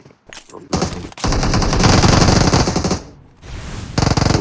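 Loud bursts of automatic gunfire from the Erangel map in the battle royale game PUBG, rapid sustained volleys with brief gaps between strings of shots, close and dense.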